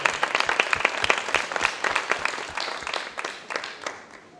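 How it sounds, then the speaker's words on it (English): A crowd applauds steadily with dense clapping throughout, loud and close, tapering slightly toward the end. "Give them another round of applause, please."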